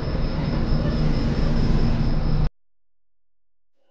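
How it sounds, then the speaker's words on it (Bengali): A train pulls out of Jasidih Junction on the Himgiri Express route, a loud steady rumble of wheels and carriages with a faint high whine, cutting off abruptly partway through into silence. "জাসিদ জাংশন থেকে ট্রেন এবার ছেড়ে দিচ্ছে"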